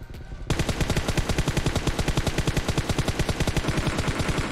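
Loud, continuous automatic gunfire in PUBG Mobile, a rapid, evenly spaced stream of dozens of shots aimed at an enemy, starting abruptly after a brief quiet moment and running without pause to the end.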